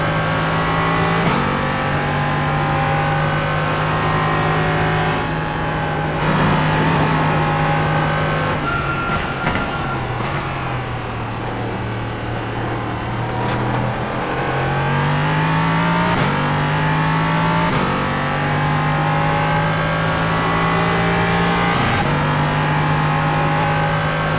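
Engine of a Ligier JS P320 LMP3 race car in iRacing, a loud continuous drone that rises and falls through repeated upshifts and downshifts over about twenty-four seconds, with no voices.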